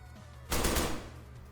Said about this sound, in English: we hear some gunshots where Hobos is